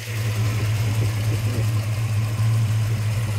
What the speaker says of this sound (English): You really hear those lifters clacking away.